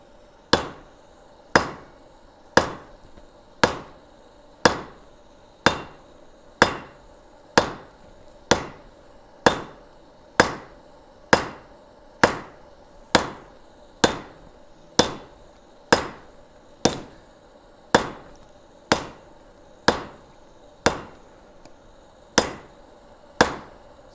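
A blacksmith's hammer strikes hot metal on an anvil in a slow, even rhythm, each ringing blow clear and close, roughly one per second, repeating more than twenty times.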